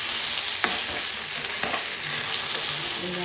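Spice masala frying in a pan while being stirred, a dense continuous sizzle with a couple of brief scraping knocks, close-up and steady throughout, with no voices.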